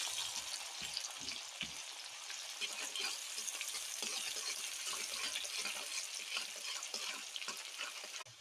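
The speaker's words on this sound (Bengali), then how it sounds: "তো পেঁয়াজগুলো একটু ফ্রাই করে নেব।" Sliced onions fry in hot oil for a fish curry, a steady dense sizzle running throughout with scattered soft stirring knocks, fairly faint and close, no voices.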